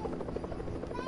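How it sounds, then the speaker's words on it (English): A steady, rapid thudding of helicopter rotor blades in Fortnite with a whining drone, continuous and fairly close, lasting about a second. "There's a helicopter?"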